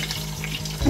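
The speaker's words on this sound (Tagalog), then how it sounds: "Unang prito" Crappie fish sizzles and crackles steadily in hot oil, a close, continuous frying hiss with a low hum beneath.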